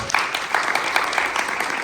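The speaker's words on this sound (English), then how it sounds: "When I say go, you just clap." An audience at a Hands Together group entertainment session claps hands together in short bursts of unsynchronized clapping, close and moderately loud, with no talking over it.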